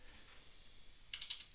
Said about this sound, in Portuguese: vamos começar a digitar este valor aqui